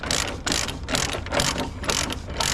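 Ratchet chain binder being cranked tight on a truck load's chain, a close, loud run of rhythmic ratcheting clicks in repeated strokes with brief pauses between pulls.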